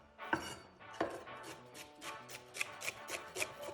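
A kitchen knife chops through celery stalks on a cutting board, two sharp cuts followed by a run of lighter, evenly spaced taps, fairly close and clean with no talking.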